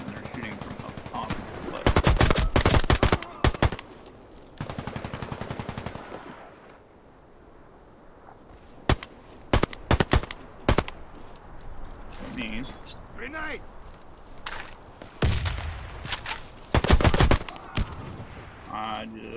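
Enemy gunfire in a video game, firing down from above: loud separate bursts of shots with quieter stretches between them. A player talks over part of it.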